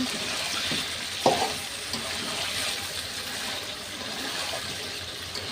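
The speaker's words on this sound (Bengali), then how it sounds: "আলু দিয়ে আরো ভালোভাবে কষাচ্ছি" Chicken curry with potatoes sizzles steadily in a pan while being stirred, with a louder scrape or clatter near the start and continuous frying hiss throughout, no talking.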